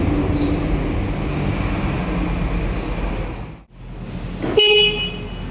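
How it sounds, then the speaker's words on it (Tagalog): A Kymco Dink S scooter's horn gives one short, loud honk near the end, after steady road and engine noise with a brief dip just before it. "Mas malakas po ang busina dito sa Think S."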